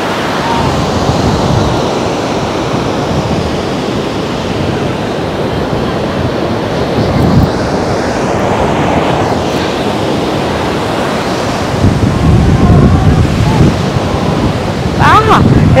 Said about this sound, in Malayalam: നോക്കിയേ, കുഞ്ഞു കുഞ്ഞു തിരമാലകൾ ഇങ്ങനെ വന്ന് തെളിതാകുന്നു.